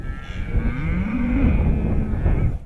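A single loud, drawn-out cow moo fills the recording, close by, from cattle on a farm in a dry, drought-stricken season.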